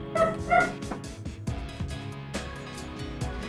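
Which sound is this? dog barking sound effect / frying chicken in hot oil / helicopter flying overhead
dog barking sound effect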